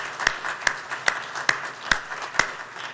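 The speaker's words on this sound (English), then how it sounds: "I hope you'll join me in a round of applause thanking them for participating." An audience at an Irvine mayoral candidate forum claps for the candidates, a scattering of sharp individual claps repeating roughly every half second over a soft bed of lighter clapping.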